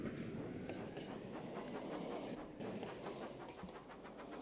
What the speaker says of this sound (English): Another train has to pass by here.